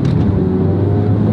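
A 2005 Nissan X-Trail with a 2.0 engine accelerating, its steady low engine drone loud and close throughout, with no speech.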